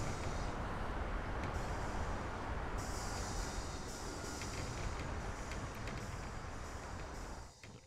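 Tram rolling along rails in the Train Fever railway simulation game, a steady, loud continuous rumble of wheels on track with faint clicking, running unbroken and easing slightly at the end.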